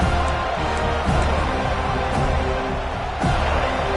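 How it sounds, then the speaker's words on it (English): A stadium crowd at a football game roars steadily and loudly, a dense, continuous wall of cheering that swells slightly near the end, with no clear single voices. "This crowd, full throat, splitting the eardrums"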